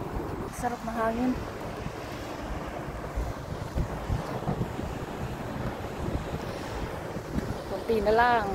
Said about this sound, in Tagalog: Sarap na hangin.